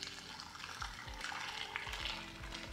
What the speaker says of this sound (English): Next, I'm going to add the liquid to the cornmeal.